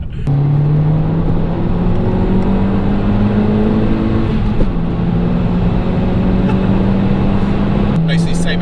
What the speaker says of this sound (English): I love these exhaust noise